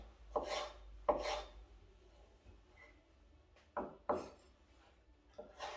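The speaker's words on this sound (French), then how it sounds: "Dans le sens de la longueur, on fait des lamelles." Tomatoes sliced lengthwise into strips with a knife, a few close, soft cuts landing in pairs, each a brief slicing stroke ending in a light knock on the board, with quiet gaps between.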